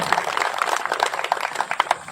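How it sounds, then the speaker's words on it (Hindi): A rally audience claps for Modi in a dense, crackling burst of applause that holds steady for about two seconds, with sharper individual claps popping through the wash. "एक बार मोदी जी के लिए जोरदार ताली बजाएं।"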